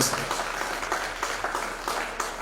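Audience applause at a summer World Day against Trafficking in Persons gathering: a dense, even patter of many hands clapping steadily throughout, fairly close and without pause.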